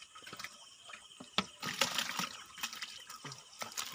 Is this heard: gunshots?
no